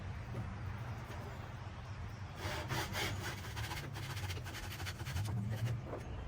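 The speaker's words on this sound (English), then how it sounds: "You can always use an axe or a pruning saw. Or my Japanese pull saw." A Japanese pull saw cuts wood outdoors with rhythmic rasping strokes, close and fairly quiet, quickening in the second half.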